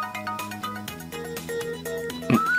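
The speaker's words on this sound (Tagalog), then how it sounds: "Nagri-ring ang cellphone mo," A cellphone rings with a melodic, repeating electronic tune, loud and close, and a rising synthetic tone enters near the end.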